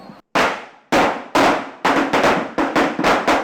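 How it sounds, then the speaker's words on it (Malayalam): A rapid series of sharp firecracker bursts at Vishu festival celebrations in Kerala, about ten loud cracks in quick, uneven succession, each with a short crackling tail. "പിന്നീട് പടക്കം പൊട്ടിച്ചുള്ള ആഘോഷമാണ്."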